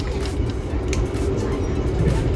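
Sembrani executive class passenger train heard from inside a K1 New Image stainless steel coach, a steady rumbling roll with low track noise and faint clicks throughout.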